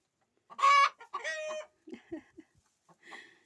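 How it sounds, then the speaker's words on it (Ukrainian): Chickens squawk and cluck loudly nearby in short agitated bursts, a few harsh cries followed by quieter scattered clucks. "Скандалять кури, скандалять, кричать."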